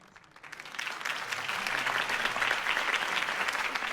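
Applause from a crowd at a political campaign speech in the video game Batman: The Telltale Series rises quickly and holds as a dense, steady clatter of many hands clapping together.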